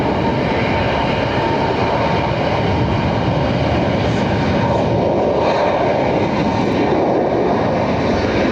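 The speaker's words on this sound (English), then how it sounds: "is that American taxiing towards us" An American Airlines airliner taxiing at Barcelona airport gives off a loud, continuous engine roar and rumble that holds steady throughout, with no talking.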